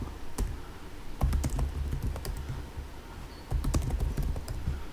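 Terminal command typed on a computer keyboard in Ubuntu, quick bursts of close, soft key clicks with short pauses between clusters over a faint room hum.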